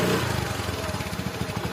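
A cartoon scooter engine runs steadily with a buzzing, chugging putter, moderately loud and continuous, no voices over it.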